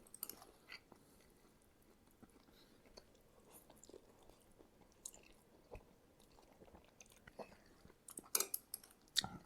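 Crunchy bacon being chewed alongside spicy Samyang Buldak hot chicken instant ramen, with quiet, close, irregular crunching and mouth sounds, sharper bites near the end.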